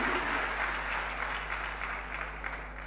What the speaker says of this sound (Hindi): सभी के लिए एक बार जोरदार तालियां बजा दें।